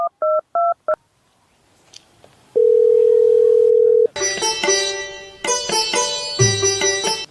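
Phone being dialed, with quick keypad tones, then a long steady tone and a repeating electronic ringback tone, loud and close.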